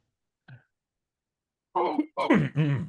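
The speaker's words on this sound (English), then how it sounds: "I feel like I'm getting a cough here." A soft short throat sound, then a longer rough throat-clearing cough with a few harsh bursts, close and fairly quiet.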